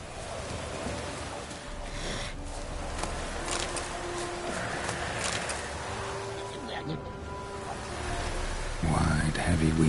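Rain falls steadily in The Witcher 3, a soft continuous patter layered with other ambient game sounds and a voice speaking over it, growing a little heavier near the end.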